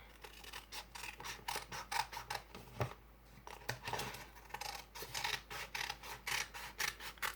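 Scissors snipping paper while making a paper crane, a close, quiet series of crisp cuts in an irregular rapid rhythm with a brief pause midway.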